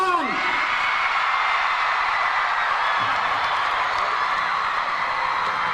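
A large live audience cheers and whoops for the film star Shahrukh Khan, a loud, sustained roar of crowd noise at an event, steady throughout with no pause.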